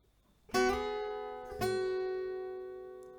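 Two notes or chords plucked on an acoustic guitar about a second apart, each ringing out and decaying slowly, close and unaccompanied, playing the closing phrase of a song.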